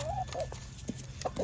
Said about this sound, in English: Here's Falcon, the one I think's turning into a rooster.